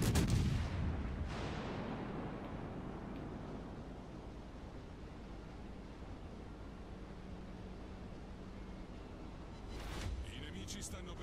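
Naval gunfire in World of Warships Legends, with an RM Montecuccoli firing plunging salvos: a heavy booming blast opens, a steady rumbling wash follows, and another loud salvo comes near the end.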